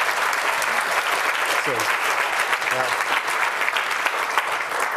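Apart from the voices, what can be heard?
audience applause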